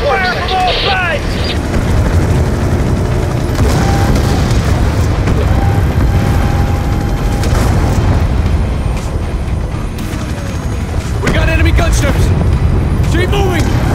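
Gunfire and explosions fill a Call of Duty Black Ops II combat scene, making a dense, loud, continuous rumble of shots and blasts as voices shout over it.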